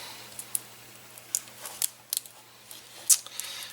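Scissors trim a cardboard box for an Easter bunny craft, giving a series of short, crisp snips at uneven intervals, close and fairly quiet against a faint hum.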